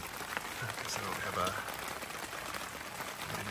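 Rain patters steadily on a tent or tarp at a fall campsite, a soft continuous hiss with scattered drips, close and even.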